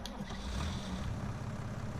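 A tractor engine hums at a low, steady idle in Farming Simulator 19, a continuous rumble with no talk over it.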